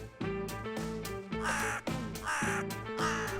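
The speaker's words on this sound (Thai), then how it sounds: "อีกายดำเป็นเพื่อนสนิทของแม่มดเลย" A crow caws repeatedly in loud, harsh calls that come in quick bursts, close by and with no other sound.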